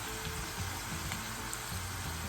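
Thin carrot slices frying in hot oil for a Tamil string hopper mix, giving a steady close sizzle and crackle with a low bubbling rumble and no talk over it.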